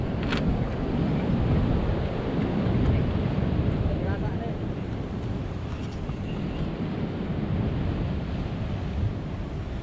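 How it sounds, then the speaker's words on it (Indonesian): Large ocean waves surge continuously at a coastal fishing spot, a dense, loud roar of surf mixed with wind buffeting the microphone and no clear breaks between swells. "Wah, ombaknya besar deh"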